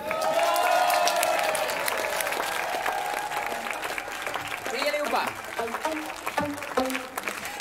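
Applause from the audience at a song contest final show swells loud and full at first, then thins into scattered claps as music begins underneath.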